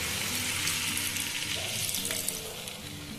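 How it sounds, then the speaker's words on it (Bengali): Boiling hot water poured into a pan while cooking a hilsa fish head dish, a steady splashing, hissing pour close by that runs without a break. "দিয়ে দিলাম ফুটন্ত গরম জল।"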